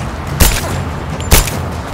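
Two sharp gunshots in the video game Rise of the Tomb Raider, spaced about a second apart, loud and punchy over a low game ambience.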